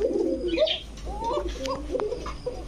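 Male pigeon, a white-bodied Bashiraj-type cock in breeding condition, cooing in repeated rising-falling phrases, fairly close, with faint background noise and no talk.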